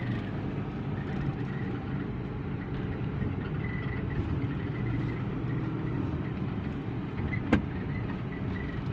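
A car keeps up a steady, low, rumbling engine and road drone as it moves and brakes, with one short sharp click near the end.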